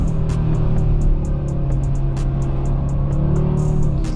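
Audi RS3 in performance mode, engine held in gear and droning loudly under load, with rapid repeated sharp throttle-blip clicks from the exhaust throughout, heard from the cabin.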